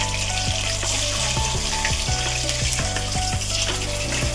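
Ginger paste frying in hot oil with whole garam masala and bay leaf, a steady loud sizzle throughout with repeated scraping strokes of a spoon against the pan.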